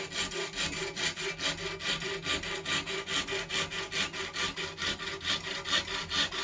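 A hand saw cuts the end off a strip of wood veneer on a homemade wooden Fender-style guitar body, with steady, rhythmic back-and-forth strokes close up and no talking.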